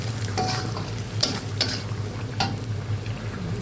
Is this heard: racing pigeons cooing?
no